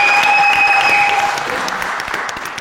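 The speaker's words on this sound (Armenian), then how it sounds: "Նորայր Եղյան, մի հատ Նորայրին բարձր ծափարենք։" Studio audience at an Armenian show bursts into loud, sustained applause. A steady electronic tone rings over the opening second before the clapping carries on alone and eases slightly toward the end.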